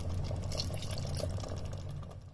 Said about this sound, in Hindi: अब हम इसमें डाल के हम इसमें थोड़ा सा पानी डालेंगे।